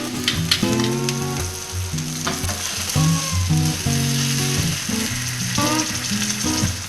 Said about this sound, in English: It's starting to sear a little bit.